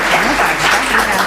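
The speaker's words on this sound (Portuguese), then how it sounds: "Uma salva de palmas" Applause from an audience at a live state public-policy seminar on drugs and mental health, steady dense clapping filling the whole moment at close, even loudness.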